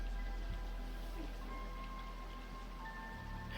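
Steady rain falling in a Blade Runner film scene, a soft continuous wash of noise with a low rumble beneath, fairly quiet and unbroken throughout.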